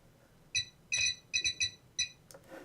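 A soloed office phone ring sounds as a run of short, bright electronic chirps in a steady pattern, moderately quiet and isolated.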